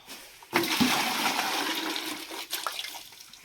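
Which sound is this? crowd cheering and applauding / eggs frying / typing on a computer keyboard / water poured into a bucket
water poured into a bucket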